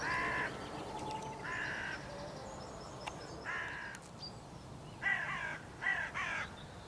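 Hooded crows caw outdoors in about six harsh, separate bursts, some doubled, spaced irregularly over several seconds at moderate distance, with a low background hum and no talking.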